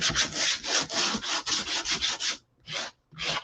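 Sanding a wooden dough bowl by hand to distress its finish: a series of quick, rough rasping strokes in steady rhythm, close and clear, then a short pause before two separate final strokes.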